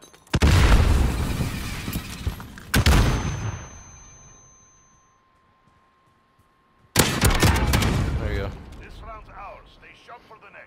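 Shotgun fire in a multiplayer shooter game: loud booming blasts in two bursts separated by a quiet gap, with players talking over them.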